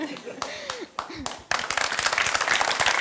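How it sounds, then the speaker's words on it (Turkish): A voice talks in a television studio, then studio audience applause breaks out and fills the second half, loud and dense. "Alkışlar sana"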